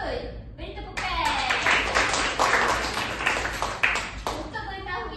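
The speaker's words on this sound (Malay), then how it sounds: "Beri tepukan." A classroom of students claps in praise of correct answers during an Islamic studies lesson, a dense burst of applause that swells after a brief pause, with voices mixed in beneath it.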